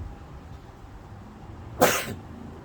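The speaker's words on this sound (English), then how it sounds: "I'm gonna sneeze" A single sharp sneeze bursts out near the end, loud and close, after a quiet stretch of faint room noise.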